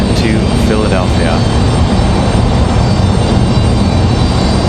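An American Airlines A320 jet airliner at Raleigh-Durham International Airport, a loud steady engine roar and rumble that holds unbroken throughout, with the broad wash of jet noise filling the scene.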